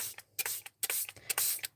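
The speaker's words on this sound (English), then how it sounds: "spray some water" Water is sprayed from a spray bottle onto wet paint in a festive craft session. There is a quick series of sharp, hissing bursts, each a short pump, about eight in under two seconds, close by. No one speaks.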